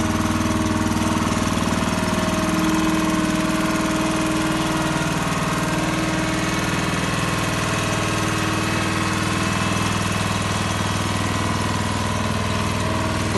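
A JCB breaker machine's engine runs at a steady idle, a loud, continuous mid-pitched rumble with constant vibration and no change in speed, filling the whole stretch without any talk.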